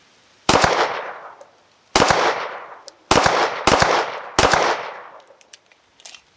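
Handgun shots ring out at a shooting range, five loud, close reports spaced unevenly about a second apart, each with a ringing decay, followed by faint clinks.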